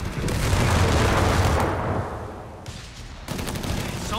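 Gunfire and explosions from a Company of Heroes 3 2v2 battle: dense rattling bursts and booms that fade, pause briefly, then resume loudly.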